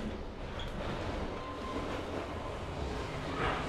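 Continuous low rumble and rattle of a sleeper train in Vietnam rolling along tracks, heard from inside, with faint clicks and a brief squeal near the end.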